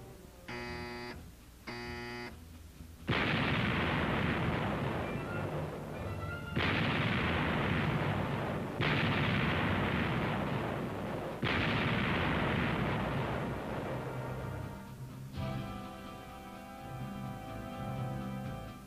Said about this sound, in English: Turret 1, all guns, one round load. Shoot.